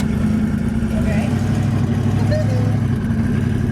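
A twin-turbo Ford Mustang idles along at low speed in second gear with a torque converter, a steady deep engine drone filling the cabin, while people talk over it.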